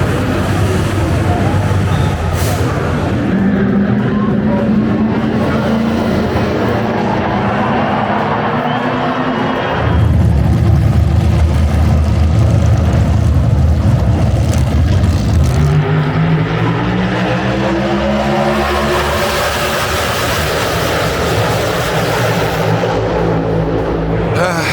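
NASCAR stock cars roaring along pit road at Talladega, a loud continuous engine drone with rising and falling revs as cars pass close by, nearly filling the whole stretch.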